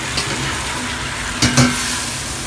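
Macaroni and pork stir-fried in a pan over low heat, a steady soft sizzle throughout with a couple of brief scraping clatters of the spatula near the middle.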